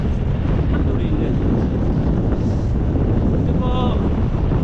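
Headwind buffets the microphone during a ride on the open road, producing a constant low, rumbling roar of wind noise, with a voice faintly underneath.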